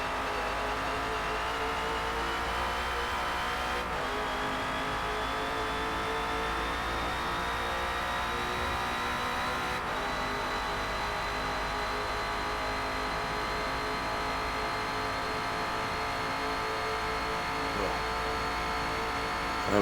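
A Ford Falcon FG X race car laps the Nordschleife in Forza Motorsport, its engine a loud, steady drone that climbs slowly in pitch, with brief shifts breaking the roar and no one talking.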